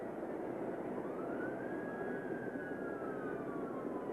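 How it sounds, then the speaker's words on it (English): A distant police siren wails in a slow rising and falling sweep, faint over a steady low rumble of background noise. "You can hear the sirens in the background."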